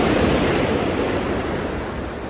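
Ocean waves wash onto the shore in a steady, loud, unbroken roar with a soft hiss, and no voices.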